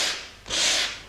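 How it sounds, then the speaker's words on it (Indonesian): Sandpaper of grade 350 to 400 rubbing over a primer coat on wood, two close back-and-forth strokes, the second longer and louder. "kalau untuk primer setiap lapisan kita mesti amplas. Kita amplas pakai kertas amplas grade 400 atau 350"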